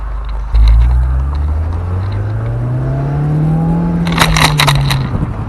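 Manual Audi TT driven on the road, heard from inside: a loud engine drone rising in pitch as it accelerates through a gear, then easing, with wind and road noise and some rattles near the end.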